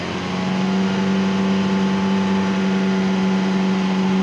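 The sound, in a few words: used car engine revving, accelerator pressed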